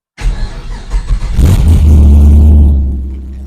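A 1961 Chevrolet Impala with wheel bearing trouble starts up loud and close, the engine cranking and catching with some clatter, then settling into a deep, steady rumble that fades slightly as it pulls out.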